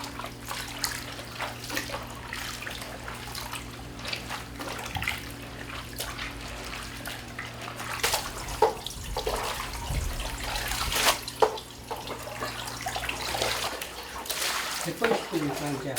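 Young radish greens swished and rinsed by hand in a basin of water, continuous splashing and trickling close by with a low steady hum underneath, a voice talking throughout.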